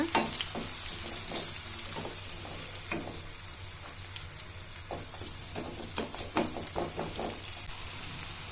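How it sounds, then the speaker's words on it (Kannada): Cumin seeds, green and dried chillies and onion fry in oil with a constant dense sizzle and crackle, while a spoon clicks and scrapes the pan in irregular taps throughout. "ಒಂದು ಅರ್ಧ ಸ್ಪೂನ್ ಜೀರಿಗೆ ಒಂದೆರಡು ಮೆಣಸಿನ್ಕಾಯಿ ಒಣಮೆಣಸಿನ್ಕಾಯಿ ಈರುಳ್ಳಿ ಈಗ ಫ್ರೈ ಮಾಡ್ಕೊಳ್ಳೋಣ"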